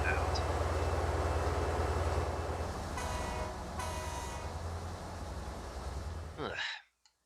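Trains in the Transport Fever 2 simulation game, a continuous rumbling rail sound with a brief horn-like tone midway, ending abruptly in silence.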